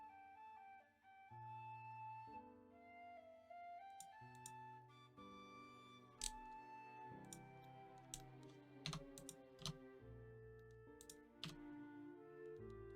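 Computer keyboard keys are pressed in quick irregular clicks and taps, close and fairly quiet, over a sustained musical background of steady tones.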